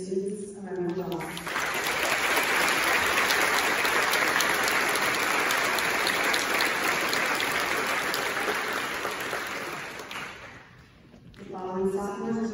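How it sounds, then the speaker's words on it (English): A crowd at a high school tenth-grade awards day applauds the students, a long, dense, steady wash of clapping that swells, holds, then dies away, with a voice speaking at the start and again at the end. "Please give these students a round of applause."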